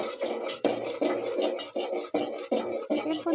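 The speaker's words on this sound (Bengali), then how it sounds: "দেখেন কিভাবে নাড়ছি, এভাবে করেই নাড়তে হবে।" A spoon stirs food in a cooking pan, making repeated rhythmic scraping strokes roughly every half second, close and fairly loud with no talk.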